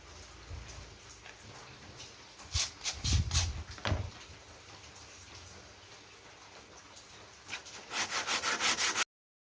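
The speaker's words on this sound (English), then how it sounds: "First chiseling off the glue and sand each side smooth." A wooden basket-weave cutting board is sanded smooth by hand, heard as close, faint rubbing strokes, with a few louder scraping bursts partway through and a quick rhythmic run of strokes at the end.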